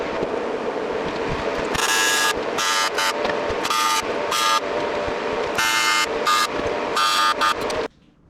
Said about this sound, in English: we'll quickly tack this up and make sure it fits